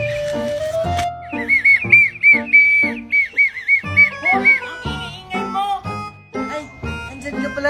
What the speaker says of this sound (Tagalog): Bininan ako ni Mami ng turutot-turutot na may babos galing ibang bansa